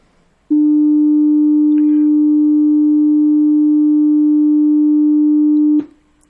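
A steady 300 Hz sine test tone is fed through a valve amplifier, holding loud and unbroken for about five seconds with faint upper harmonics above it, then cutting off abruptly.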